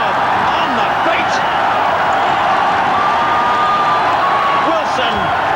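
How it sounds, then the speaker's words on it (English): A rugby crowd at an Otago match roars and cheers after a sensational try, a dense, sustained wall of noise under an excited commentator's voice throughout. "Wilson has set this Otago crowd into delirium."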